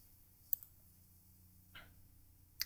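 A few quiet, isolated computer mouse clicks sound in a silent room: one sharp click, a softer one about a second later, then another crisp click near the end.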